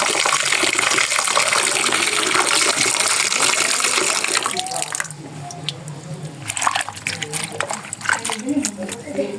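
Red leafy greens are rinsed under a running tap, a steady gush of water that gives way to splashing and handling of the wet leaves, with a voice speaking over it.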